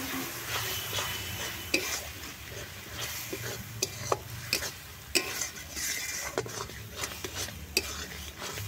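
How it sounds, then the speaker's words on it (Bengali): A spice paste of turmeric powder, chilli powder and water is stir-fried in a pan for chicken kosha, with continuous sizzling and repeated scraping and clinking of a spatula against the pan, close up and without talk. "মশলাটাকে খুব ভালো করে কষে নেব।"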